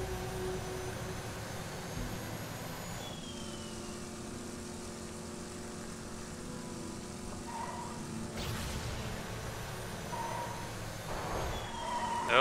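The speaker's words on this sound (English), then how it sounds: "Let's put on our afterburner." A jet afterburner roars steadily in the Borderlands 2 video game, a sustained engine rumble with a siren-like rising tone, holding loud and even throughout with a brief whoosh near the middle and a swell at the end.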